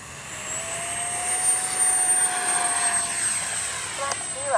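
A Freewing F-22 RC jet speeds up for takeoff with its flaps down, its electric ducted fan rising into a high whine and then a loud steady rush, with a voice nearby.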